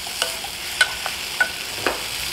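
Potatoes being coated in butter in a pan for potato cream soup, heard as soft stirring scrapes and light sizzling ticks, a few brief spatula strokes over quiet background.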